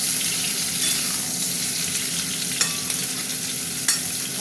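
Vegetables sizzle and fry steadily in a hot pan for a gingery cumin curry made with gandhal leaves, a continuous close crackling hiss broken by a couple of brief stirring clinks, with no talk.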